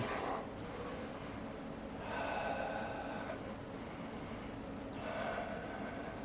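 Deep, slow yoga breathing during a balancing pose, heard as a few long airy inhales and exhales close to the mic, alone without talk.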